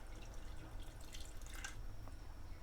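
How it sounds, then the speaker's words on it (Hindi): Water trickling and dripping as about half a glass is poured into a pan of chicken korma masala, a soft, continuous splashing pour under faint kitchen background noise. "और इसमें तकरीबन आधा गिलास पानी हम डाल रहे हैं।"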